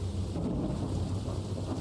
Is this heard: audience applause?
no